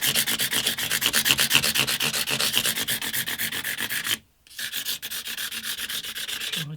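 Steel fret file scraping across the frets of an antique parlour guitar during fret leveling, with steady rhythmic back-and-forth strokes, close and loud, briefly pausing before resuming.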